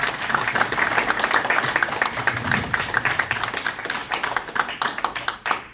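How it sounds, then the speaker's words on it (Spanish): Audience applause at an academic history talk in Arequipa, steady dense clapping from a large crowd filling the whole stretch, loud and continuous before tapering slightly at the end. "Nuevamente pido un fuerte voto de aplauso."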